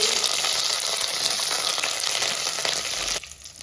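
Mustard seeds, fenugreek, curry leaves and garlic crackle and sizzle in hot oil, a dense, steady frying hiss with faint pops that drops away sharply near the end.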